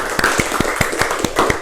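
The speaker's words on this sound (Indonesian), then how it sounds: "Tepuk tangan untuk Mas Yuda sama Mbak Fitra." A classroom group claps for two students during a microteaching lesson, with a handful of separate, fairly sharp claps spaced irregularly across a short stretch, close by and without talk.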